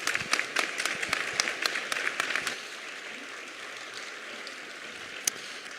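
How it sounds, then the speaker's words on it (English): Audience at an evening community meeting on wildfire preparedness and evacuation planning applauds the panelists, a burst of crisp close clapping that fades after about two and a half seconds into quiet room tone with one last clap. "Can we get a big round of applause for our panelists?"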